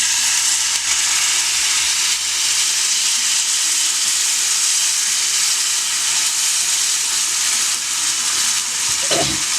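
Vinegar poured into hot oil with fenugreek and asafoetida for a garlic pickle, producing a loud, steady sizzle and hiss that holds evenly throughout, with a brief stirring scrape near the end.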